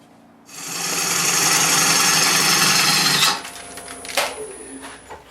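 A tool cuts away a small nub on a green-wood turned bowl at a workbench, a loud steady whirring rasp lasting about three seconds, then a few short scraping knocks as the shavings come off.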